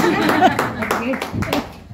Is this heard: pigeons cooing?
no